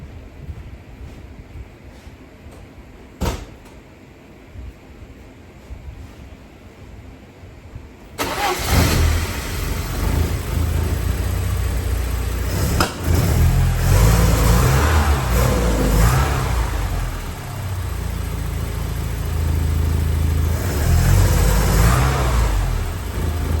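A Porsche 944 with a rebuilt engine that will not rev above 3000 rpm starts after a few seconds of quiet background, then runs loud and close with rough, uneven revving throughout.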